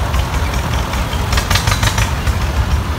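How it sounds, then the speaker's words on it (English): A 1949 Oliver HD crawler tractor idles in a parade, a loud, rough, steady engine rumble with a rapid knocking pulse and outdoor noise. "Is a 49 Oliver Tractor HD"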